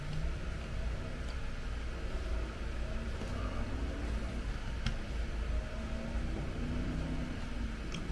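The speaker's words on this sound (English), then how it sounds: "You can hear the cars outside." Steady low traffic rumble from outside, with cars passing faintly and continuously in the distance.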